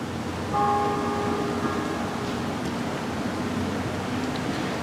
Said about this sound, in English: Very fitting that the bell is tolling right now from the local college here.